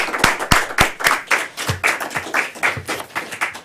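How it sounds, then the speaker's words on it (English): A small group at a Toastmasters speaking contest claps briskly, with sharp distinct hand claps close by that settle into a steady, lighter patter. "How about a round of applause for all our three table topics contestants?"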